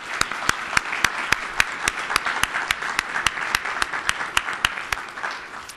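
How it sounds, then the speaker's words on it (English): Steady applause from a conference audience for a panel of speakers at a Parkinson's disease event, dense clapping with no voices, holding at an even level throughout. "I'd like to give them another round of applause."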